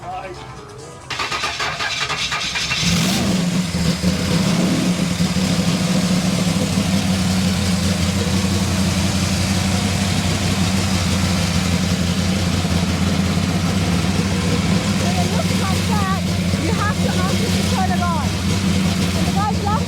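A Ford F100 truck engine cranks and starts after a brief pause, then settles into a steady, loud idle rumble while people talk nearby at an outdoor truck show.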